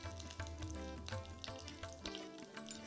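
Cashews and raisins roast in a pan with a couple of cardamom pods, giving a soft, steady sizzle with light crackles and occasional stirring scrapes, fairly faint and with no talking.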